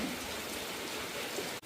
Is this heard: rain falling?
yes